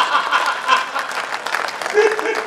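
An audience applauds at a Marwari comedy poetry recital, giving a dense, steady patter of many hands clapping fairly close and loud throughout, with a few faint chuckles mixed in.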